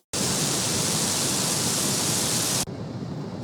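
A mono flamethrower roar spread into wide stereo, a dense loud rushing whoosh that bursts in abruptly, holds steady for over two seconds, then drops to a lower lingering hiss.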